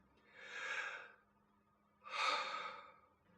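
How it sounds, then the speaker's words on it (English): A person breathes in and out audibly in a slow demonstration, two long airy breaths close to the listener with a pause between them, with no other sound. "Normally you would breathe in and out like this."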